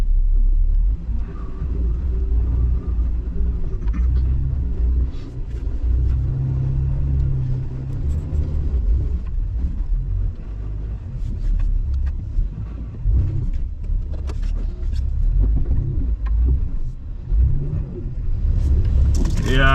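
An off-road vehicle rolls through deep snow on a trail in British Columbia after a tire repair, its engine a steady low rumble with occasional revving, while people talk over it.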